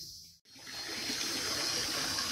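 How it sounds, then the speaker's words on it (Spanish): Water is poured into a paddling pool: after a brief break, a steady gushing splash of water runs continuously, fairly close, with no talking. "Y ahí mi hermano le está echando agua. Agua a la piscina."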